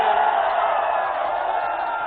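A vast crowd at a Samajwadi Party workers' conference in Kopaganj roars and cheers continuously, a thick, unbroken wall of voices that stays loud and steady throughout.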